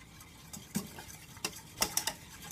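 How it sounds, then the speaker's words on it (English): A whisk stirs edible finger paint ingredients in a pot, giving a series of light, quick scraping clicks that come in short irregular bursts, close by and fairly faint, with no talking. "we are going to grab our whisk, which I have right here, and we're going to stir all our ingredients together"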